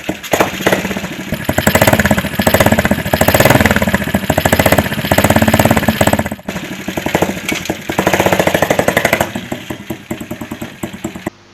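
Homemade two-wheeler built by a student in Malappuram from bicycle and motorbike parts, its small engine hammering out a fast, steady run of close pulses, loud and near, easing briefly mid-way before picking up again.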